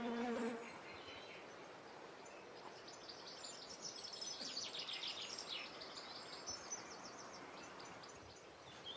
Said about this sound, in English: You plant a geum, and literally within a minute, there are bees.